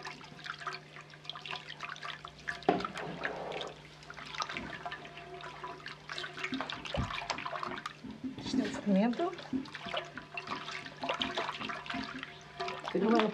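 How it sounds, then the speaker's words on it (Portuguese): Salted water being poured into flour while bread dough is made by hand with baker's yeast in a Portuguese home kitchen, a running liquid splash and trickle under continuous nearby talk. "vou já aqui pôr a água com sal"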